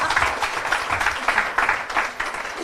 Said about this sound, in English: Can we have a little bit of an applause for that, I think?